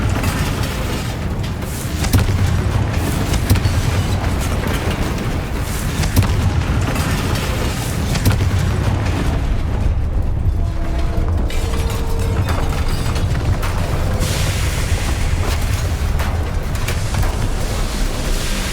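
Confringo fire spell blasting in Hogwarts Legacy, a loud, dense rumbling explosion with mechanical clatter that stays heavy and continuous for the whole stretch, with no voices.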